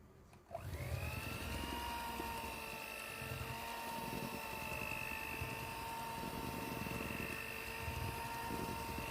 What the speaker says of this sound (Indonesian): Setelah santan dimasukkan, kocok sebentar saja hingga dia nyampur.